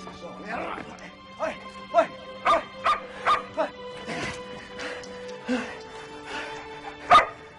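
A dog barks in a string of short, sharp yaps at an uneven rhythm, close by, mixed in with people talking during an action movie scene.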